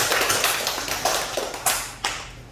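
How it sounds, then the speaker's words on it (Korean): A small church congregation claps to welcome a first-time visitor, a few scattered, close hand claps over a quiet hall. "잠깐 일어나시고 박수 한번 보내주세요"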